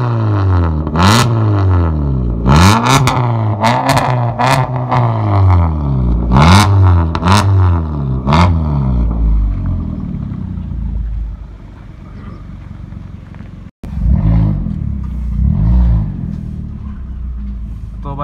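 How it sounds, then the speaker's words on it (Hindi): Maruti Suzuki Ciaz with a loud modified exhaust revving hard in repeated rising and falling bursts, close and booming, then settling to a rumbling idle before another rev; voices are heard in the background. "सुनो उसका अंदर से बैठ के एग्जॉस्ट कैसा लगता है।"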